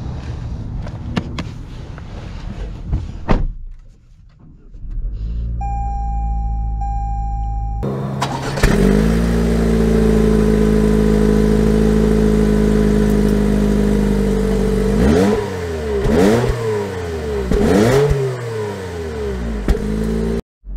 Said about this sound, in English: we're going to take it out for an interesting test drive